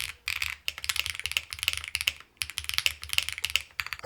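Rapid typing on a Xenox mechanical keyboard fitted with HMX Hydra switches, loud and up close, with dense bursts of clacky keystrokes broken by short pauses.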